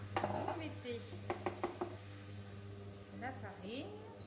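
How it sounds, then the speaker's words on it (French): Butter, 70 g, melting in a saucepan for a blanquette sauce gives a quiet sizzle, with a few light clinks and stirring sounds of a utensil against the pan. "Donc j'ai mis les 70 g de beurre dans ma casserole. Vous faites fondre votre beurre."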